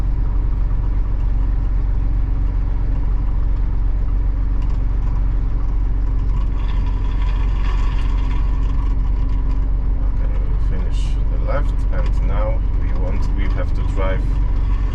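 A vehicle drives slowly at full left lock during a GOtrack AutoDrive steering system calibration, a steady low engine drone running throughout, with someone talking over it toward the end.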